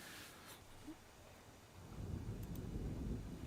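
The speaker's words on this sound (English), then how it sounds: "Hear the thunder?" Thunder rolls in as a low, distant rumble that swells partway through and keeps going, faint but steady under soft outdoor wind noise.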